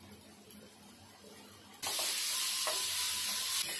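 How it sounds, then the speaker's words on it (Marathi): Masala paste with Kashmiri red chilli powder is stirred and sizzling in a pan for an egg gravy, starting faintly, then turning into a loud, steady frying hiss with scraping stir strokes close up and no talking. "हे छान मिक्स करून घ्यायचं."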